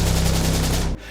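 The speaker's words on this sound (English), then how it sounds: "Gunfire erupted, grenades exploded" Sustained automatic gunfire in an armed attack on a cricket team's convoy near Liberty Roundabout in Lahore, a dense, loud rattling barrage of rapid shots that cuts off abruptly near the end.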